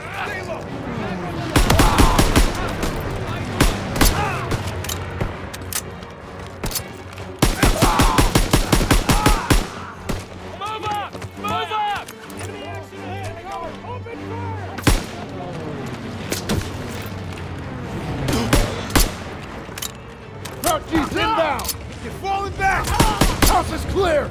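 Gunfire in Call of Duty WWII during a fight in a stronghold, with loud bursts of machine-gun and rifle fire, scattered single shots and explosions. Soldiers shout commands throughout.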